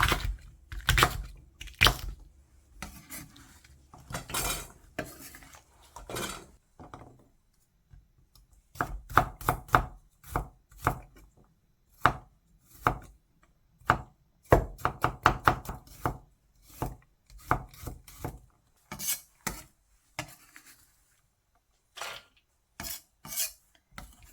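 Chili peppers are being chopped with a knife on a board for kale kimchi: close, sharp rapid strokes in bursts separated by short pauses, with no one speaking.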